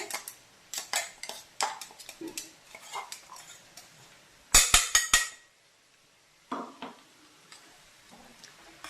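Knife cutting fresh curry leaves: a run of sharp, close clicks and taps against the board, a dense cluster of louder blade strikes midway, then a few scattered taps, with no talk.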